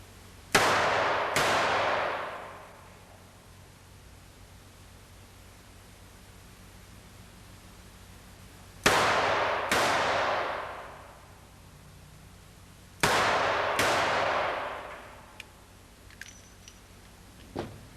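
Handgun shots fired in bursts of two at targets on a self-defense range, three well-spaced pairs of sharp reports, each pair quickly followed by a long decaying echo, with quiet gaps between bursts.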